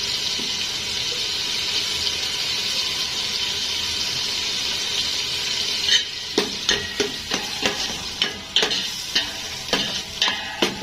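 Chopped onion with a grated stock cube fries in a pan, a bright, steady sizzle for several seconds before a utensil starts scraping and tapping against the pan in a quick, uneven rhythm.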